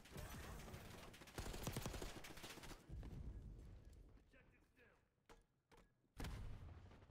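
Rapid assault rifle fire from the AMES in Black Ops 6, loud bursts with impacts and game effects, then quieter gaps and a final burst, with a player talking over the action.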